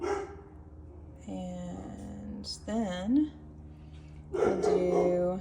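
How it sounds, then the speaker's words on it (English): A neighbouring dog barks and yips in short bursts nearby while a person speaks during agate and galaxy stone cutting. "You can hear the dog next door who barks constantly."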